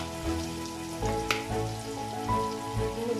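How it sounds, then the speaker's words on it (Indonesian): Leunca berries and beef brisket stir-frying in a pan with soy sauce and oyster sauce, a steady close sizzle with occasional scraping stirs and light clatter throughout. "Kemudian kita tumis lagi"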